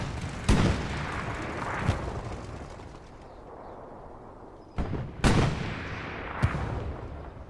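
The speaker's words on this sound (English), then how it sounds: "Let's get the explosion on camera" Heavy blasts in the World War II shooter Hell Let Loose, including a satchel charge explosion, several loud booming detonations at uneven intervals with rumbling decay, some sharp and near, others duller.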